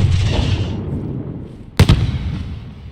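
A grenade explodes in the tactical shooter Under Siege during an embassy mission, a sudden loud, close blast with a quick second crack that rises sharply out of steady background rumble and then fades into a low ambient roar.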